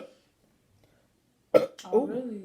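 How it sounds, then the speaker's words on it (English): A single loud close burp from a person during a burping challenge, a short guttural belch after near silence, followed by a brief voiced throaty tail. "I got a burp."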